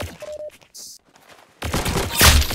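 Gunshot headshot in the Roblox game Arsenal: small clicks and a short tone give way to a loud burst of rapid shots with a sharp crack near the end.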